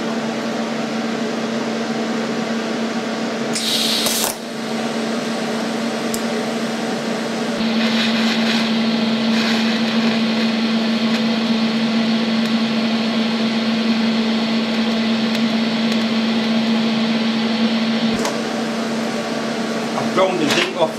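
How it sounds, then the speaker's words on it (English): A grinder strips the zinc coating from a steel washer, giving a steady loud whine with a sustained mid-pitched hum that runs for most of the stretch alongside a constant machine drone, with brief bursts of higher grit noise near the start. "Ground the zinc off this washer, but you can still tell it's been coated."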